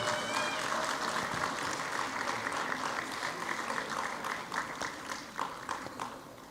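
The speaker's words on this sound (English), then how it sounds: "And please do it and clap for them" An audience at a hospital white coat ceremony claps for the residents, a dense burst of many hands that gradually thins and fades toward the end.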